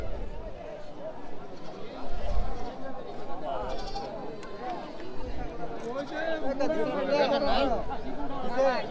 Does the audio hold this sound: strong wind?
no